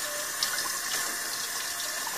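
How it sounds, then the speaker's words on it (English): Hands rinsed under a running kitchen tap during cake baking, a steady close stream of water splashing into the sink with small shifts as the hands move, no voices. "I'm just rinsing out my hands real quick."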